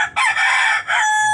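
A farmyard rooster crows loudly and steadily for over a second among chickens, with a short dip in the middle and then a brief return.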